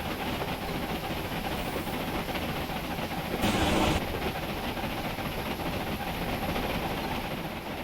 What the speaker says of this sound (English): These bully Pacifics are louder than I thought they were.